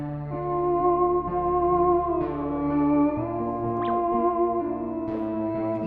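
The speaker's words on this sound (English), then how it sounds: "the first ever electronic instrument was invented by a Russian physicist called the theremin" Theremin playing a wavering, sustained electronic tone with gliding pitch bends and vibrato, clear and close with no talk over it.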